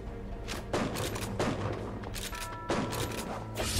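Explosive barrels blowing up in the side-scrolling action game Shank, repeated heavy blasts and crackling bursts with several loud booms spaced about a second apart amid continuous rattling gunfire-like noise, no talking.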